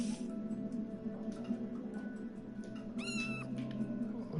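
A house cat meows once in Minecraft, a short rising-and-falling call near the end, heard over a steady low ambient hum at moderate volume.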